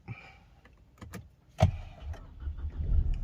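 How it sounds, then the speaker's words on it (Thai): A Mercedes-Benz W204 starts after repair of its electric steering lock. Faint clicks lead to a sharp crank as the engine catches, then a steady idle rumble that builds slightly. "ทดสอบสตาร์ทนะครับ เหยียบเบรคครับ"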